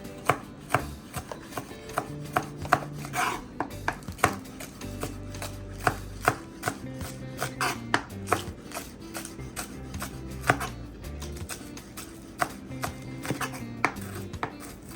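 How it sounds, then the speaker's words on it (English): A knife chops a green onion on a cutting board, sharp repeated thuds in quick irregular bursts, close and crisp, with occasional soft board knocks and no voices. "Let's go ahead and split it in half. Give it a nice little chop as well."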